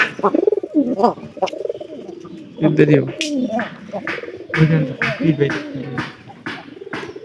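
Pigeons coo in a loft, with several rolling low calls repeating close by while someone talks over them.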